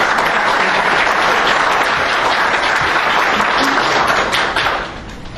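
Audience applause at a town hall meeting, dense sustained clapping from a crowded room for about five seconds before it fades out.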